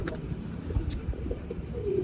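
A pigeon coos softly in a low, rounded murmur amid faint background rustle, with a couple of brief higher chirps, no talk.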